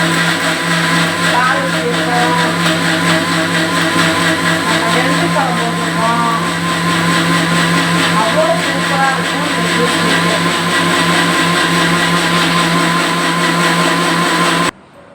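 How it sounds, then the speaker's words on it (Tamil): A kitchen mixer grinder blends cucumber juice sweetened with country sugar, producing a loud, steady motor whine with constant churning that runs unbroken for about fifteen seconds before cutting off abruptly. "இப்போ மிக்சி ஜாரில் நம்ம போட்டிருக்கோம் அரைச்சிக்குவோம்"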